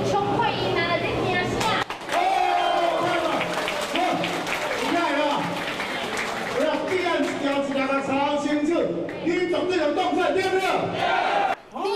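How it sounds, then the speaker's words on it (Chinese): Chinese Taipei national team players in their locker room after a Jones Cup game erupt in loud group cheering, whooping and clapping nearby, a raucous burst of many excited voices lasting throughout. "球员乐得欢呼拍手"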